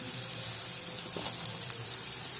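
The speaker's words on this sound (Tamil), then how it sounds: "பச்சை வாசனை போகிறதுக்காக தான் நான் இதை வதக்குறேன்" Onion with ginger garlic paste sautéing in a pan while cooking aloo paratha filling; a steady, soft, continuous sizzle close by, with no talking.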